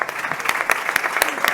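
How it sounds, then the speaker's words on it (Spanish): Short burst of audience applause at a talk, crisp individual claps in an uneven flurry, moderately close, with a faint voice underneath. "Un aplauso para ella."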